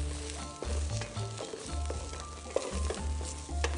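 Garlic and onion sauté in hot oil in a pan for a Filipino misua soup, a quiet sizzle broken by repeated scraping stirs of the spoon.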